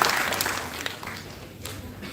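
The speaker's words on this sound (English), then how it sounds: "So a huge round of applause to all the students, all the dignitaries." Brief applause from an audience of students and dignitaries at a college opening ceremony, a fading wash of clapping that tapers off quickly at moderate volume.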